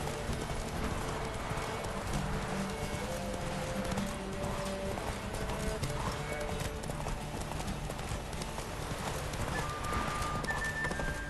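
Horse hooves clip-clop continuously in The Witcher 3, a steady galloping patter under a dense bed of game music and ambience.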